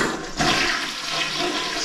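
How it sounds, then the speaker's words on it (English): A toilet flushing in a hotel bathroom on Walking Street, a sudden loud rushing surge of water that starts abruptly and keeps roaring steadily, close by and alone. "Super flush."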